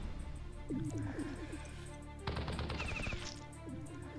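Machine gun attack in the video game Battle Nations, a stuttering burst of automatic fire mid-clip over game sound effects and low rumbling, fairly close and moderately loud.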